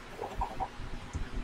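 A Minecraft chicken clucks in a few short, soft bursts, fairly faint over a low background rumble with no talk.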